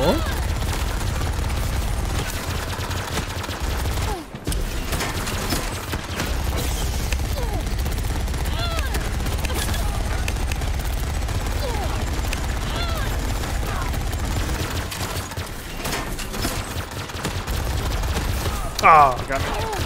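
A minigun fires in the VR arena shooter Grapple Tournament, a continuous dense roar of rapid shots with heavy low rumble, running almost unbroken for about twenty seconds apart from one brief gap.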